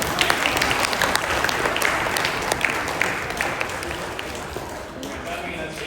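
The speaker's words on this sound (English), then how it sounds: "one more round of applause for our winners and everybody that did cross country." Audience applause at a school fall athletics awards assembly honoring cross country winners, steady dense clapping throughout at moderate loudness with faint voices underneath.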